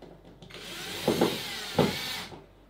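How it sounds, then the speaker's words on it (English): A power drill boring holes while a flight simulator instrument panel is assembled, a steady whine running throughout with two louder bursts of drilling near the middle, close to the microphone with no talk. "going to drill some holes and then put a few screws in"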